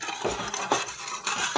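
A spoon stirs sugar and water syrup in a pan for khurma, making a few distinct metallic scrapes and clinks at a slow, even pace, close and clear.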